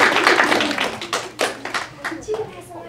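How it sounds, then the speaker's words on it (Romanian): A small group claps for a child during a storytelling session, a quick burst of close hand claps that fades within a couple of seconds, with talk around it. "Și te aplaudăm și pe tine"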